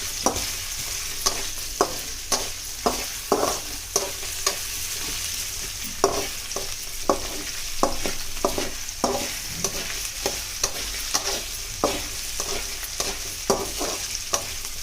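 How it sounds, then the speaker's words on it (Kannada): Potatoes for sabudana khichdi fry in a pan while being stirred, giving a steady close sizzle broken by frequent rhythmic scraping strokes of the spoon, with no talking. "ಚೆನ್ನಾಗಿ ಫ್ರೈ ಆಗಿ ಆಲೂಗಡ್ಡೆ ಸ್ವಲ್ಪ ಬೇಗ ಫ್ರೈ ಆಗಲ್ಲ"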